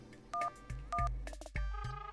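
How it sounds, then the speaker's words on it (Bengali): Telephone keypad tones beep in a short sequence of separate dialing presses in a Bangla cartoon, loud and clear with no talking over them. "রিং হচ্ছে, রিং রিং।"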